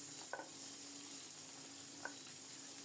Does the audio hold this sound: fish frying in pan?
yes